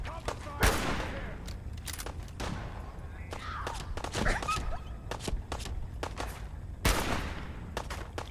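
Combat gunfire in Fallout 4 comes as heavy single shots and short rapid bursts, loud and booming against a rumbling background, with thuds and scattered impacts between the volleys.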